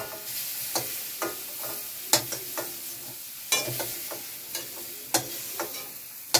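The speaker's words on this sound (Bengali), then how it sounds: "তো এটা পুরো আমি বাটারে চিকেন মশলা দিয়ে ভেজে নিচ্ছি।" Mushrooms fry in butter with chicken masala, giving a quiet, soft sizzle broken by regular sharp clinks and scrapes of stirring in the pan.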